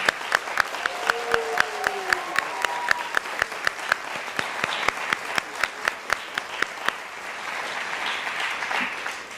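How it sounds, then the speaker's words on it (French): An audience at an intercultural recognition gala claps in sharp rhythmic unison, steady beats repeating for several seconds before fading into looser scattered applause, with faint voices briefly underneath. "nous vous applaudissons pour votre contribution désintéressée à notre organisation"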